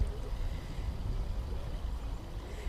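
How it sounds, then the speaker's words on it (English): Small garden waterfall cascading from a hilltop into a lily pond at Rockway Garden in Kitchener, Ontario, a steady, even wash of falling water that stays close and continuous with no talk. "We have a little waterfall cascading down from the hilltop into a pond."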